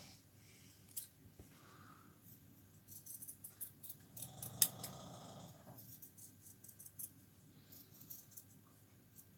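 Scissors snip through pinned fabric pattern pieces for a dressform pin cushion, a quiet run of short crisp cuts with a louder cluster midway, close up with no talking.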